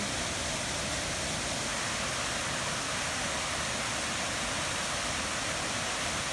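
A waterfall seen on a weekend outing pours steadily, a dense, even rush of water that fills the whole stretch at moderate level without a break and with no voices.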